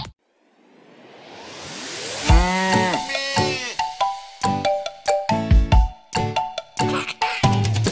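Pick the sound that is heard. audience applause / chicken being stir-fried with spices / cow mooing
cow mooing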